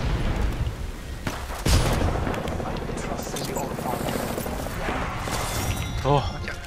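Gunfire rattles in Apex Legends, with scattered shots and bursts, including one sharp crack, mixed into a busy, windy game soundscape while a person talks over most of it.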